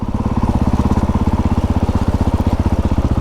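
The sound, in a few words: dirt bike engine idling erratically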